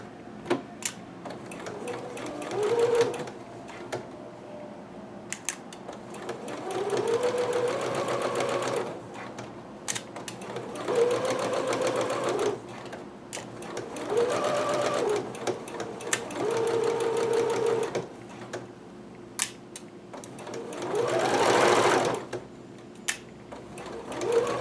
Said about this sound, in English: So now I'm stitching one of my sleeves closed.